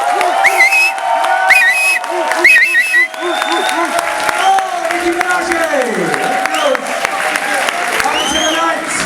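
An audience at a stand-up comedy show applauds after the set, with loud, steady clapping mixed with whistles and whoops while a voice talks over the ovation.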